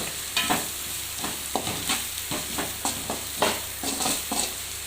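Green chillies and chili powder are sautéed in a pan, with a steady sizzle under scraping, clinking stirs of a spatula, close and moderately loud.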